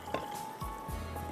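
Water poured into a pot at close range, a brief splashing gurgle with a few drip-like plops.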